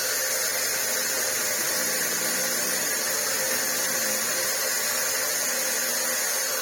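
A Shark AX950 vacuum cleaner runs after its brushroll motor was replaced, giving a loud, steady, continuous whirring whine with a broad hiss that holds unchanged from start to finish.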